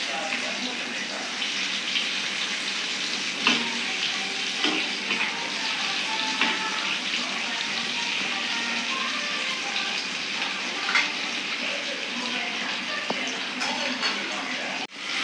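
Fish frying in oil for a Tirunelveli-style fish fry, a steady soft sizzle and crackle running continuously at low level with occasional small pops and clinks.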